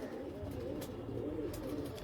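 Domestic pigeons coo softly and continuously, a low steady murmur from a few birds close by with faint rustling above it.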